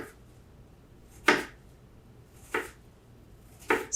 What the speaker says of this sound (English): Super fine, chopped up tiny pieces. Okay, last chop.